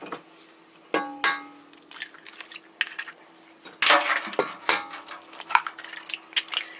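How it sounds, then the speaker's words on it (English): Eggs cracked into a pot of warm milk, yeast and sugar for buttery rolls: a series of sharp shell taps and knocks against the rim, with wet drips and light clinks between them, close and fairly loud. "Then I'm going to break my eggs in."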